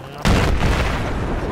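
A loud explosion in Battlefield 3 on Kharg Island hits suddenly after a quieter start, then leaves a broad rumble lasting to the end, with a voice partly mixed in.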